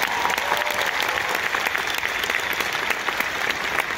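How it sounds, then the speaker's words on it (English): Sustained applause from a large audience at a York College (CUNY) graduation ceremony, steady dense clapping that fills the room for the whole stretch with no voices on top. "Please give them a round of applause today."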